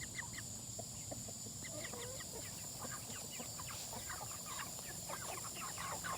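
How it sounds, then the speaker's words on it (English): Seven-week-old Cornish broiler chickens cluck and chatter steadily in a busy group right after their food is taken away on a hot day, a continuous mix of overlapping calls at moderate distance with no speech. "These are the Cornish broilers"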